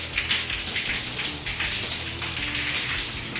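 A shower with weak water pressure hisses steadily in a stall at an Ohio Turnpike service plaza, a dense, even spray pattering close by without pause.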